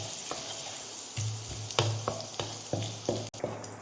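Ginger and whole garam masala sizzle in hot ghee and oil, a continuous frying hiss punctuated by several distinct spatula scrapes and knocks against the pan, close up with no talking.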